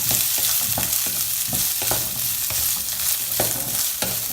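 Capsicum, carrot and corn sauté in a hot pan with a constant sizzle, while a utensil scrapes and stirs in quick repeated strokes about twice a second, close and clear.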